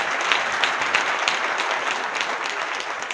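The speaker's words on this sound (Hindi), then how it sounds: "जोरदार तालियों के साथ" Dense, steady applause from a large audience at an outdoor political rally in Narwana, a continuous wash of many hands clapping for the whole stretch with no break.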